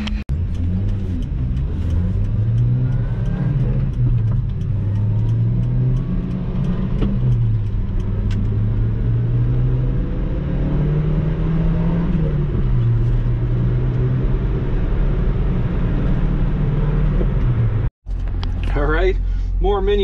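A supercharged Subaru Sambar mini truck driving near a Harbor Freight in Poughkeepsie, its small engine humming loud and steady with rising and falling revs, someone talking over it, then a brief cut before he keeps speaking.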